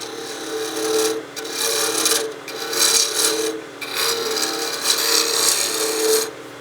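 A wooden whistle is turned on a lathe as a torpedo-shaped taper is cut: a steady, close rasping scrape of the tool on spinning wood over a low motor hum, swelling and easing in several passes.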